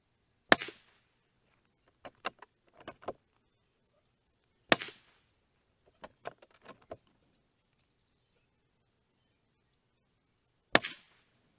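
Sharp gunshots ring out while a Shinenyx AIM 101 scope is sighted in at night, single reports and quick pairs and triplets spaced by silence, with loud isolated cracks near the start, middle and end.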